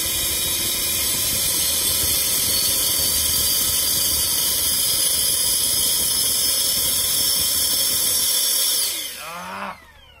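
Electric ducted fan fitted with a homemade steel-pipe afterburner runs at a steady, loud, hissing high-pitched whine with a roaring rumble, then cuts off near the end, leaving a brief falling squeal and quiet.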